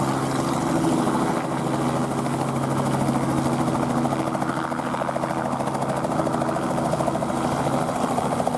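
A pleasure-flight helicopter's rotor thumps steadily beneath a continuous engine whine at an airfield open day in St Omer, sustained and fairly close for several seconds.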